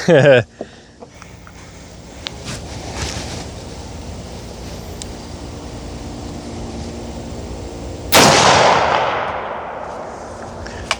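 A single loud rifle shot from a DMR-style .50 Beowulf cracks out near the end, its blast ringing and fading over outdoor wind noise after a brief sharp click at the start.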